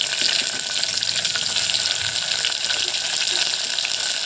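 Chopped tomatoes dropped into onions roasting in hot oil, giving a steady, loud, dense sizzle and crackle throughout with no pauses.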